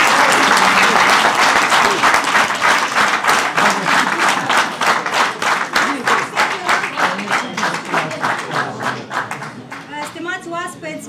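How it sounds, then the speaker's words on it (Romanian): Audience applause at a political party's anniversary gathering, a dense burst of hand clapping that starts loud and gradually thins and fades, with a voice emerging near the end. "haideți să aplaudăm încă o dată această stimată doamnă"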